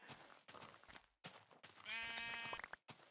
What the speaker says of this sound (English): Oh, that's a lot of sheep.